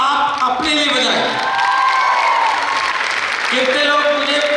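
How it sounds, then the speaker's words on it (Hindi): An audience at an anniversary talk event applauds loudly and steadily, sustained clapping with some cheering mixed in, filling the hall throughout. "तो जोरदार तालियां पहले आप अपने लिए बजाएं।"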